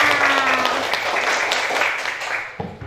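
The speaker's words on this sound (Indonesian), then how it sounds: "Yuk tepuk tangan dulu untuk kita semua." A class of young children claps together in a classroom, a dense burst of applause that stays loud and steady for about two and a half seconds before fading, with a brief tone underneath at the start.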